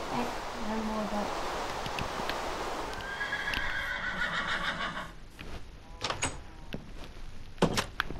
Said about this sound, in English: Oh, there's a horse though.